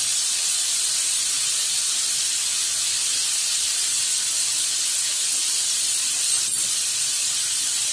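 Spices frying in a pan with salt and turmeric give a loud, continuous hissing sizzle that holds steady throughout, with a single brief tap near the end.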